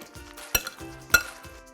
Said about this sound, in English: And we're gonna give this a good stir.